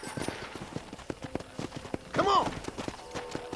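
Horse hooves clip-clop in a steady walking rhythm in Red Dead Redemption, running at 4K 60fps on PC emulation, with moderate, close, evenly spaced strikes while someone speaks briefly over them.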